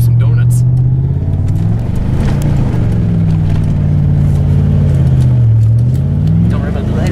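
Ford Crown Victoria doing donuts in a grassy field, heard from inside the car: a steady loud engine drone rising and falling with revs throughout, with voices talking over it.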